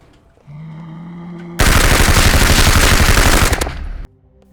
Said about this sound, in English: the gun sounds rock